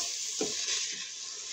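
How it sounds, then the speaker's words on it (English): Boiled rice with chilies sizzles in a hot pot with a steady, hissing crackle, and a brief stirring scrape sounds near the start. "I love it when my pot sizzles."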